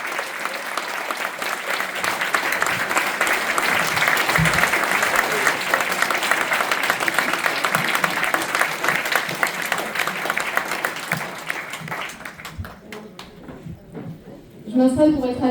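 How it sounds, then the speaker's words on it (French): Sustained, loud crowd applause at a municipal campaign rally in Toulon, honouring a Spanish teacher. It holds steady for about twelve seconds, then thins out and fades, with a brief swell near the end. "Un tonnerre d'applaudissements pour elle."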